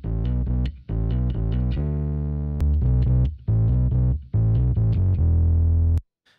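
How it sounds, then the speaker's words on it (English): Distorted bass guitar through a distortion pedal plugin, with the polarity of the distorted side flipped for a beefier tone; a loud, sustained riff of repeated notes with short gaps, alone, ending abruptly. "Flipping the polarity, or flipping the phase of the distorted side, and that's the only thing I'm changing, gets way beefier."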